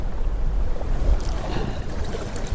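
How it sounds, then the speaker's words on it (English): Choppy, wind-driven lake water slaps against a small fishing boat while trolling a fly, a constant low rumbling wash with gusty wind noise and uneven thumps from the hull, with no talk. "Notice how I'm getting battered about by the waves."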